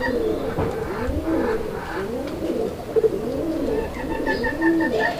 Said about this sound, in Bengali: আপনারা দেখতে পাচ্ছেন কবুতরটার ডাক মাশাআল্লাহ একদম ভরপুর ডাকের একটা পেয়ার